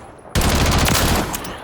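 Rapid automatic gunfire from a weapon in Call of Duty bursts in suddenly and continues as a loud, dense, close stream of shots for over a second.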